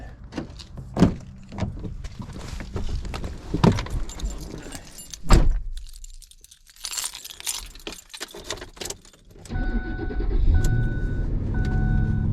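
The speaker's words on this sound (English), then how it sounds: "You end up with a bunch of old junky keys." A bunch of old, junky car keys jangles in several sharp metallic bursts close by, followed by a car door and an electronic chime with engine hum.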